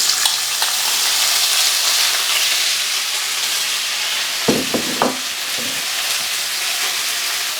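Beef searing in oil in a hot steel wok for beef ho fun, a loud steady sizzle throughout with a few sharp utensil clinks partway through, no talking.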